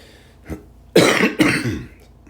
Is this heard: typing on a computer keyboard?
no